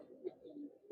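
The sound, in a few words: Giribaz pigeons cooing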